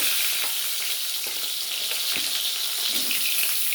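Pointed gourd pieces frying in hot mustard oil, a loud continuous sizzle with occasional stirring scrapes and bubbling, close up with no talk.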